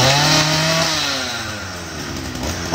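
A Makita chainsaw engine revving up then settling into a loud, rough idle, with a buzzing two-stroke rattle and a brief rise in pitch at the end.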